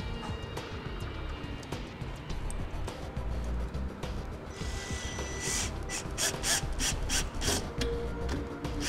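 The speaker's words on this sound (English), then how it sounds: "use the worm gear clamp provided to secure the no-drill mounting bracket directly to the hitch" A worm gear hose clamp is tightened around a no-drill mounting bracket on a trailer hitch, giving steady ratcheting clicks and metallic rubbing. The clicks grow louder and more rhythmic toward the end, close to the microphone, with no talking.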